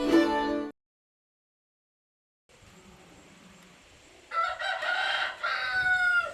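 Chickens and a rooster on a Canadian homestead: a crow rings out, then a silent gap, then steady outdoor ambience, followed by clucking and more crowing nearby.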